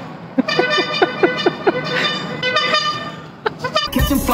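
A car horn honks in a quick series of short toots and a few longer blasts, loud and close, over background noise with a sharp bang at the end.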